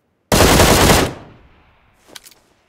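A loud, close burst of rapid machine-gun fire in a multiplayer shooter match lasts under a second, then fades into a short tail and a faint rattle.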